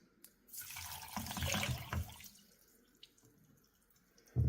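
Water pours briefly into a pot for soaking fonio millet, a rushing splash that swells and then trails off, followed by a quiet pause and a soft knock.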